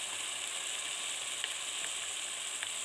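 Tomatoes fry with onions for couscous in a pan, a steady broadband sizzle held throughout, with a few faint clicks and crackles now and then.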